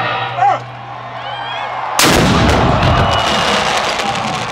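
A cannon crew fires a cannon: one sudden, very loud blast cuts in after a quiet stretch, followed by a long rumbling roar that slowly decays.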